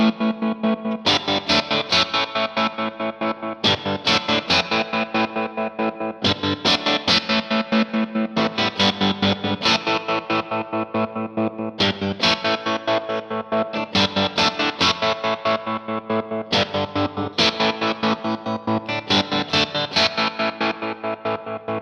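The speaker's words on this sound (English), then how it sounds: "I'm using the square wave tremolo, and I'm also using the pedal to boost the front end of the amp a little bit" Overdriven guitar through the amp, chopped by an Empress Tremolo 2 square-wave tremolo on rhythm 7 with the pedal boosting the amp's front end; dirty chords pulse on and off in a steady, loud, choppy pattern, with no voices.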